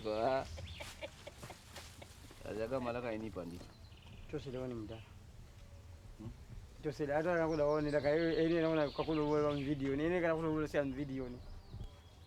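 A rooster crows repeatedly nearby, loud drawn-out calls with clucking in between.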